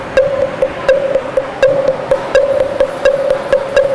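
A mithun horn used as a folk percussion instrument from North East India, struck in a steady, repeating rhythm of sharp ringing hits with a bright tone, close and alone without talk.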